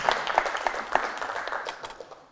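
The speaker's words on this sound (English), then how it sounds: "can we have a round of applause for Graham Van Damme of Jag Capital?" An audience claps at a business talk, a brief round of applause with dense, steady clapping that fades out after a couple of seconds.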